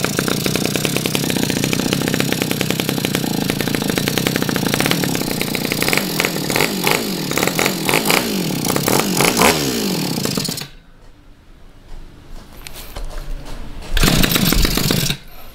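A grass cutter's small two-stroke engine runs loud and close while its carburetor is adjusted, buzzing steadily before cutting abruptly to a low idle, then briefly revving back up near the end.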